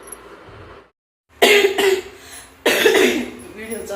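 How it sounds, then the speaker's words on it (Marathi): Two loud, harsh coughs close by, separated by a short pause, following a brief stretch of quiet background. "खोकला"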